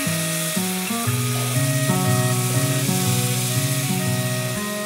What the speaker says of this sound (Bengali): সো আমি গার্লিকটা অ্যাড করে দেন এখানে এখন চিকেনটা অ্যাড করে দিচ্ছি।